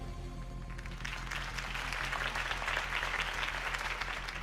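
Crowd applause in the Batman The Telltale Series video game, rising from quiet into sustained clapping that continues steadily to the end.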